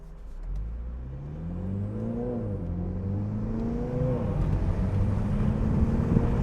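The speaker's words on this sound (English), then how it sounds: "All that air is flowing in right here." Wind rushes into a 2022 Mini Cooper John Cooper Works Convertible through the partly open roof while driving, a steady broad roar that builds over engine hum and gear-change whine.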